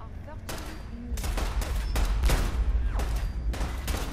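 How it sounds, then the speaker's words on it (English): Several loud bursts of gunfire in Fallout 4 crack over a continuous low rumble, spaced irregularly, like a nearby firefight. "Who are they shooting at?"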